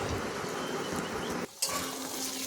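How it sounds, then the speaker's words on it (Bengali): Spices are stirred into frying dhoka dalna in a pan, giving a close, steady sizzle with scraping stirs and one brief pause in the middle. No one talks. "এবার ভালো করে নেড়ে চেড়ে নেব।"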